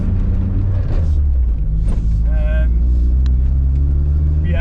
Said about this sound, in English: it's bogging down a bit, it's got a bit of a misfire